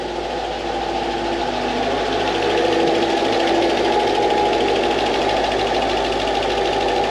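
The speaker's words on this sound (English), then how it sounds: "first time in five years it's running" A Mercedes CL55 AMG, left abandoned in a storage unit for five years, runs steadily at idle with a dense, even mechanical hum and light ticking, close and loud, with no voices.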